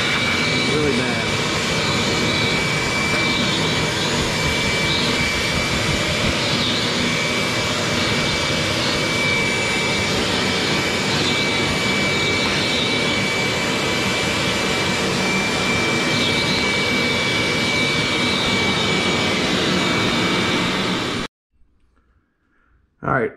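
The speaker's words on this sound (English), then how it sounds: "All right, vacuumed best I could." A vacuum cleaner working on a clogged ATV radiator roars steadily and loudly up close for about twenty seconds, then cuts off abruptly near the end.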